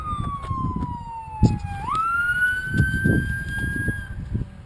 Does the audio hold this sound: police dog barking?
no